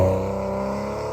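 A Porsche 996 Carrera 2 manual with a flat-six engine sounds a steady, loud engine tone from close by, holding an even pitch under load with no talk.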